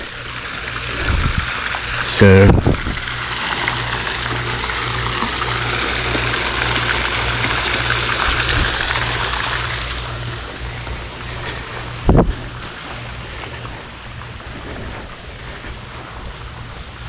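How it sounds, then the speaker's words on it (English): Rushing water from twin waterfalls at Rosedown Plantation, St. Francisville, Louisiana, roars steadily nearby, a broad continuous wash, with a brief spoken word and a couple of sharp knocks. "these 2 waterfalls, they call them the twin waterfalls"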